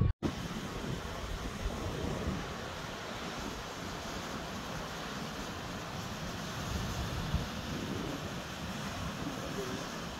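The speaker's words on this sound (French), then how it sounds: "vous allez rien entendre, il y a du vent." Steady wind buffeting the microphone on a road trip in Morocco, a continuous low rumbling roar lasting throughout with no clear speech.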